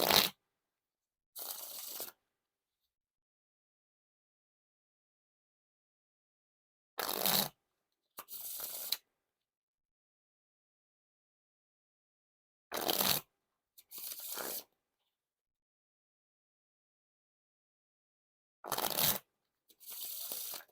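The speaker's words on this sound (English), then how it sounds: "Now for the riffle shuffle or bridge shuffle." A deck of Fontaine Carrots playing cards is riffle shuffled and bridged in four separate rounds, each a short crisp ripple of cards followed by a softer cascade, close up and isolated against silence.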